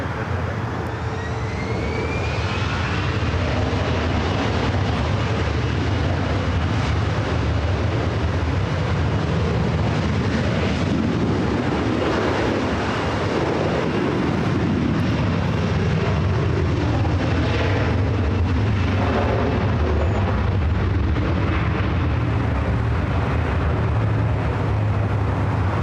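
Airliner taking off from runway 2 left at LAX: a loud, continuous jet roar fills the whole stretch, swelling toward the middle as the aircraft passes nearest, then easing as it climbs away. No talking.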